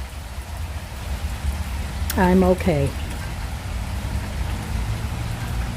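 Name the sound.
rain falling on garden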